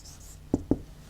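Two quick, crisp marker or chalk strokes on a classroom board during a science lesson on soil, close and fairly loud against a quiet room, with no speech over them.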